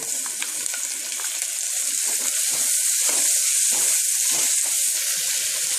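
Steady loud sizzling of tomatoes frying with onions in a pan with occasional stirring scrapes, continuous throughout with no voices.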